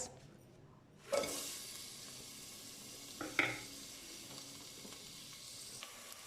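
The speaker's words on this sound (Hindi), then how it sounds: "इसमें मैं सबसे पहले फ्राई करूँगी प्याज" Oil sizzles steadily after a sharp hiss as onion hits the pan, with a few stirring scrapes and clinks partway through.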